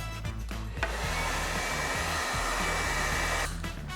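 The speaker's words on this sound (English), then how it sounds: "heat the front part of the screen, and I think that's going to loosen up the adhesive so that we can take it out" Hair dryer blowing steadily close by, heating the front of a screen to loosen its adhesive during electronics work, a continuous airy whoosh with a low hum, starting and stopping with brief clicks, no voices.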